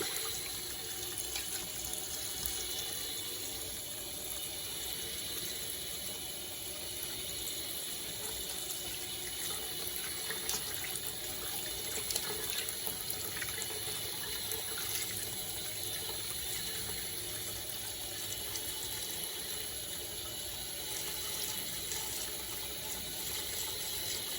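Steady running water pours continuously for the whole stretch, a constant broad rush filling a pot to cover honeycomb tripe, with no talking.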